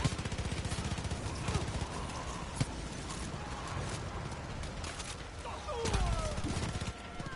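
Continuous Far Cry 5 gunfire, a fast steady rattle of shots running through the whole stretch with a few sharper cracks standing out, and speech mixed in beneath.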